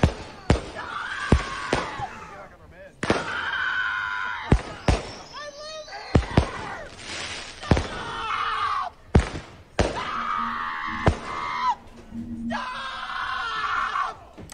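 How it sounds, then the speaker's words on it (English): Neighborhood fireworks mortars burst in a rapid series of sharp, loud bangs. Screaming, yelling and excited voices carry between and over the explosions. "the people that are lighting the mortars off"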